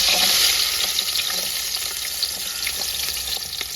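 Sliced shallots fry in hot oil in a pan after mustard seeds have popped, giving a loud, steady close sizzle with faint crackles and light stirring sounds throughout.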